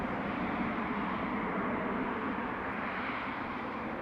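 A Ryanair Boeing 737 passes overhead already fairly high near Amsterdam Schiphol, a steady broad jet roar holding level and moderately loud throughout with no voices.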